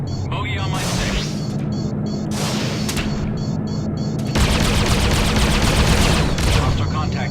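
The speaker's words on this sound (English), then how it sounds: "Bogey firing on me" Enemy fighter guns rattle during a Freelancer space dogfight, with rapid pulsing laser-like bursts over a steady engine drone, under a radio voice announcing combat status.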